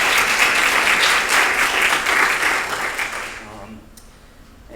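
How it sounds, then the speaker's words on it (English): Loud, full applause rises from an audience thanking the City of Davis arts fund at a community event. It holds steady and then fades over the last second or so into near quiet. "so let's give them a big round of applause."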